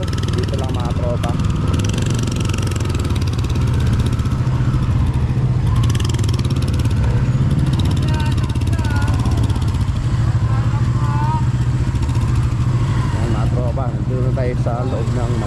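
Motorcycle engines idle and rumble nearby amid a busy crowd at a vehicle blessing at Our Lady of Manaoag, with people talking throughout and occasional revving and clatter.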